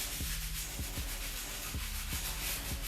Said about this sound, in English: we're gonna switch from the stiff bristle to the medium to get into those grooves at the bottom of the shoe